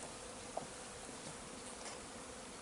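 Honey bees fanning during a shook swarm, a steady, even insect buzz from many bees close by, continuous and fairly soft, with no voices.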